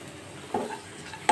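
Chopped onions sizzle in a pan for vegetable fried rice, a low steady fry that swells with brief stirring scrapes partway through and a sharper clink near the end, fairly quiet and close.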